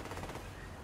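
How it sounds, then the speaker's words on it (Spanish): Gunfire in the online shooter Survarium, a dense burst of rapid shots forming a steady, busy clatter that runs through the whole short moment. "Ya se escuchan los disparos."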